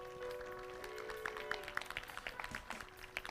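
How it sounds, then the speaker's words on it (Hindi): A church congregation at a Sunday prayer meeting claps in thanks, a soft, scattered burst of applause that builds into quicker, uneven claps, heard faintly at a distance over a steady tone. "जोरदार ताली बजाकर धन्यवाद दें"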